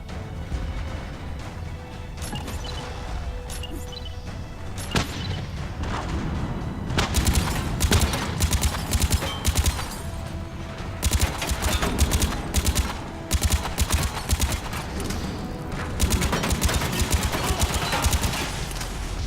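Gunfire in the shooter game Mass Effect 3 crackles in bursts of rapid shots and booms over a continuous background of combat noise, loud and busy throughout.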